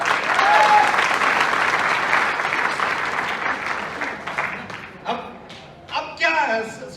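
An audience claps in a hall, a full, dense round of applause that slowly thins and breaks into a few scattered, louder claps near the end.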